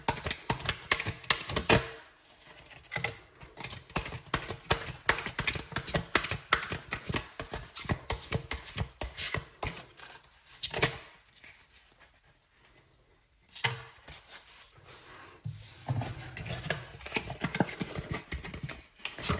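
Tarot cards being shuffled and drawn, a dense run of rapid riffling and flicking for several seconds, then a quiet gap and renewed softer shuffling, close up with no talk.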